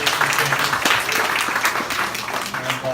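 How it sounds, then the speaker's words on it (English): Wedding reception guests give a brief round of applause, scattered claps and a murmuring crowd filling a hall, with a voice faintly audible beneath. "Little round of applause for DJ Steve over here."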